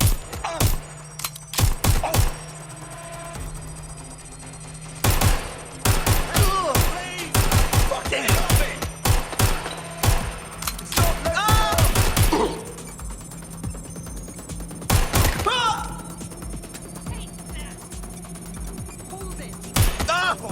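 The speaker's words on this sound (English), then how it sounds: "I'm getting shot at!" Gunfire in Watch Dogs Legion: repeated sharp shots and rapid bursts crack out in uneven clusters across a tense firefight, loud and close, with voices heard in between.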